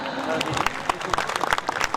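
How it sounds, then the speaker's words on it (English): Audience applause at a school Parents' Day celebration, scattered hand claps rising over a murmuring crowd while a voice talks over it, brief and moderately close. "a big round of applause for Dr. Pranjal Buragohai, sir."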